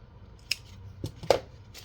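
Scissors snip through craft material in two or three crisp, close cuts spread across a short, quiet moment.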